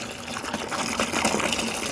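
Car wash concentrate poured into a bucket of water while washing a 1956 Chevy drag car, a steady close gush and splash of liquid lasting a couple of seconds.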